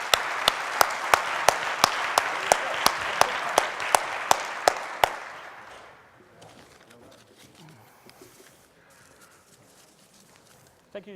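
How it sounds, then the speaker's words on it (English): An audience applauds the speakers at the close of a conference session, with dense clapping and a few sharp, regular claps on top. After about five seconds the applause dies away into quiet room noise. "I want to ask a big applause for all the speakers"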